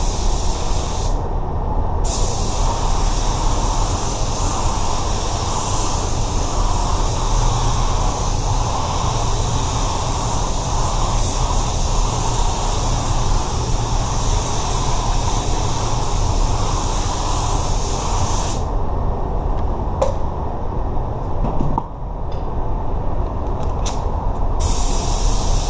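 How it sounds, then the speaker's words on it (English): A steady, loud spray gun hiss runs almost continuously while spraying waterborne Axalta base coat on a Tesla, broken by two short pauses when the trigger is released. "go ahead and spray my base coat"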